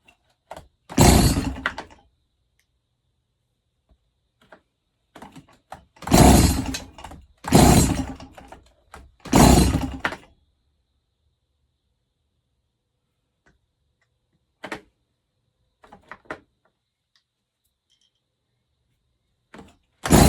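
An uncommon McCulloch chainsaw run at full throttle, heard as several loud bursts of engine roar separated by quiet gaps, with a few brief clunks toward the end.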